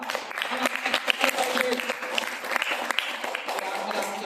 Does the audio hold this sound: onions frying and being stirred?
no